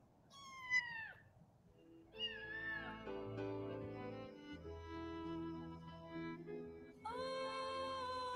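A cat meows with a short, high cry near the start, then a longer drawn-out yowl over a soft tonal backdrop, and another meow rises at the end.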